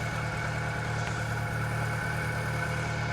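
A Bedford CF van engine idles steadily after being primed with petrol down the carburettor, a low throbbing hum with faint rhythmic pulses, close and continuous with no talk.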